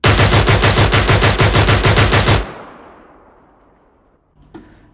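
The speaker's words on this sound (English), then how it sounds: "And that is the MG08." A designed MG08 machine gun sound fires a loud, rapid, steady burst of about twenty evenly spaced shots for two and a half seconds, then cuts off into a long fading reverberant tail, followed by a faint metallic clink near the end.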